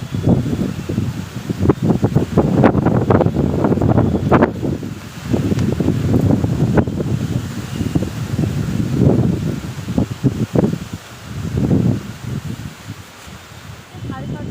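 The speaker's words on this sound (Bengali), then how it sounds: "এতটা মেঘ করেছে, কত সেই লেভেলে হাওয়া লাগছে" Strong gusty evening storm wind buffeting the microphone in rolling surges, with rustling in the background, under heavy cloud.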